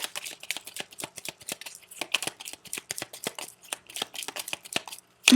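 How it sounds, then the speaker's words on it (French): Petit Lenormand cards shuffled by hand for a reading, a close, steady run of quick papery riffles and flicks in an irregular rhythm that continues for several seconds with no talking. "on va passer au tirage Petit Lenormand"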